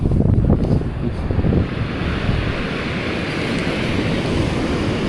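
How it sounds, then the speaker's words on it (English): Strong wind gusts roar against the microphone, a heavy broadband rush that is loudest early on and then continues as a steady, blustery wash. "The gusts are quite evil."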